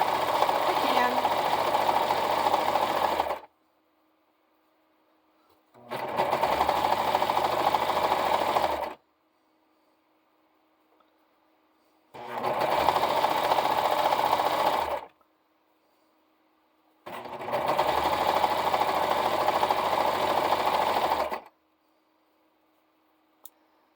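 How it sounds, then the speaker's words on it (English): A serger sewing machine stitching a curtain runs in four separate bursts of about three seconds each, with quiet pauses between, close and loud. "I could make a curtain faster with my serger"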